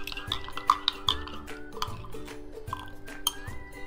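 A spoon clinks against a glass while stirring ground grape juice into a thandai drink. The bright taps come in small clusters with faint liquid swirls, close by, over steady soft background music.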